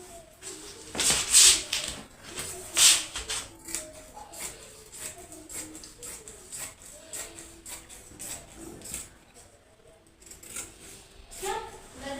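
Scissors cut through trouser fabric in a few short, crisp snips near the start, followed by softer rustling and handling of cloth, close and fairly quiet.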